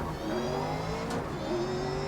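Race car engine in the racing video game GRID Legends, a steady loud drone with sustained harmonic tones that shift in pitch partway through, running continuously without speech.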